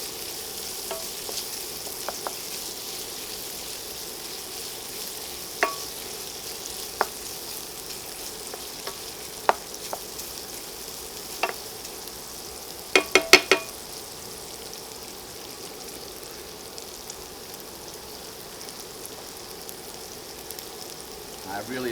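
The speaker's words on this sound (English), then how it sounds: "we're going to place our eggs in for our omelet" Beaten eggs for a low-carb keto omelette sizzle in a hot pan with a steady, soft frying hiss. A few sharp clicks and taps sound near the pan throughout, with no talking.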